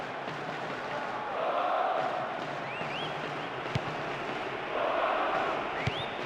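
Stadium crowd noise from the football video game PES 2010: a constant, dense roar that swells twice into louder surges, with faint whistle-like rises and occasional thuds, and no talk.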